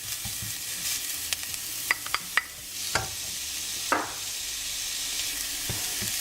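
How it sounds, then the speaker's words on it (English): Garlic cooking gently in a pan, a soft steady sizzle broken by a few crisp spoon taps and scrapes, close and fairly quiet with no voices. "The garlic, and just cook it very, very gently"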